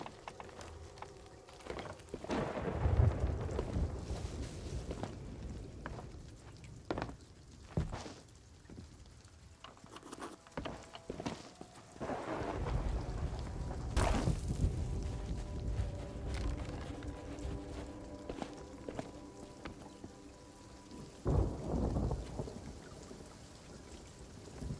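Thunderstorm at sea in Sea of Thieves: steady heavy rain with repeated rumbling thunder cracks and rolls, loud and close, with water and ship ambience beneath and no talking.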